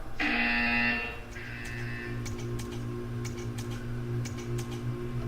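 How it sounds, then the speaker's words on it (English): A loud electronic buzzer from the video game Portal 2 blares for about a second, then fades into faint ticking and tapping over a steady low hum. "When you hear the buzzer, stare at the art."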